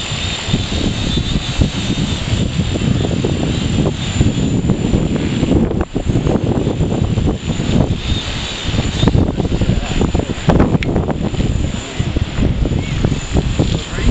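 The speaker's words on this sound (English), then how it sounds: "Pretty windy out here today" Strong wind blowing outdoors, a loud, steady roar that buffets the microphone without pause for the whole stretch.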